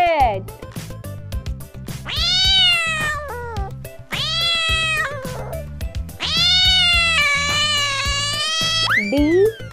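A cat meows several times in long, drawn-out cries over a steady backing melody, loud and close, alternating with short pauses between calls.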